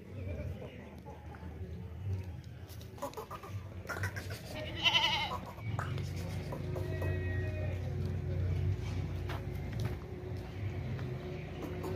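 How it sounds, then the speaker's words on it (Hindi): Goat bleating on a farm, a large pregnant Makhi Cheeni goat with a wavering harmonic bleat near the middle, set against steady low livestock and yard background noise with other animal sounds around it. "काफ़ी बड़ी बकरी है माशाल्लाह से।"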